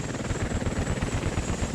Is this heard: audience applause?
no